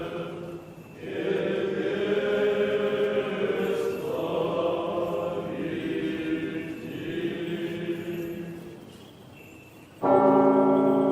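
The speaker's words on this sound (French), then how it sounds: "en attendant que les cloches sonnent." Russian Orthodox monastery church bells on Valaam ring out loudly in overlapping, resonant peals that swell and linger, with a heavier, brighter bell striking near the end.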